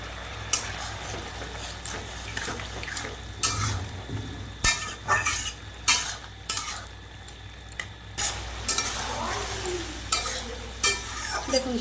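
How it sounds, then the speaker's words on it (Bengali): Ash gourd greens simmer in mustard gravy in a home kitchen pan, bubbling and sizzling softly while a spoon stirs and scrapes against the metal in repeated strokes and clinks. "আর একটু আমি ঝোলটা ফুটিয়ে নেব, একটু গামাখা মাখা করে নেব"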